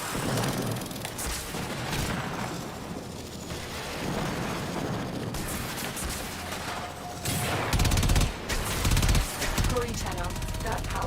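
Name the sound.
gunfire in video game Warframe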